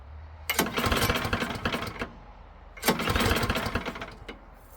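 Small engine cranking for two attempts with throttle applied, each a rough close-up burst of churning mechanical noise lasting about a second and a half, separated by a short pause.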